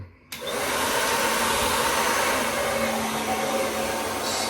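A hair dryer on its middle warm setting switches on abruptly and blows a loud, steady whooshing roar for several seconds while a beard is straightened, close to the mic with no talking.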